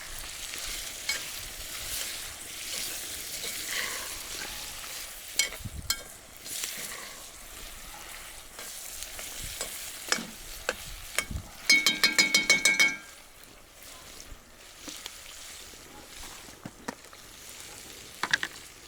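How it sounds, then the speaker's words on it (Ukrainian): Pilaf (plov) being stirred in a frying pan, with soft sizzling and scraping throughout and a brief burst of rapid metallic clicks partway, close but fairly quiet. "Розмішуємо."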